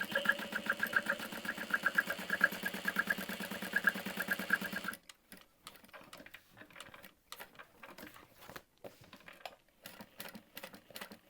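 A sewing machine stitches a curved pocket top on a handbag, running in a steady rapid burst for about five seconds and then stopping, followed by quieter scattered clicks and handling sounds.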